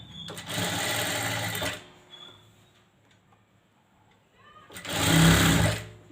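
Sewing machine stitching thread piping onto a garment shoulder seam, in two loud steady bursts of running stitches separated by a quiet pause.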